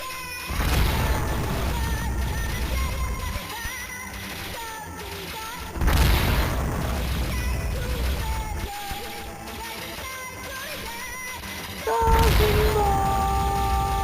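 Explosions in a video game: three loud, booming blasts spaced several seconds apart, each cutting in over a busy layer of tonal game sounds and effects.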